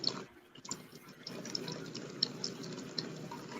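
Water gushes steadily and hard from a hose running at high pressure, a continuous hiss and splash with small bright drips and spatters over it throughout.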